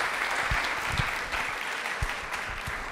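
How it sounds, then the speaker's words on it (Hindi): Audience applause on a televised quiz program, steady, dense clapping throughout, fairly close and even in loudness with a few sharper individual claps standing out. "तालियां बिल्कुल जोरदार"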